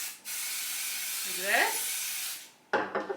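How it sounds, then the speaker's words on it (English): Spray adhesive hisses onto the back of embroidery stabilizer: a steady, close, broadband spray lasting about two seconds, with a brief voice over the middle, then a few soft handling and rustling sounds. "we're going to spray the back of our stabilizer"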